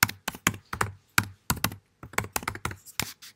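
Fingers typing on a computer keyboard in quick, irregular bursts of sharp, close key clicks separated by brief pauses, with no other sound between the strokes.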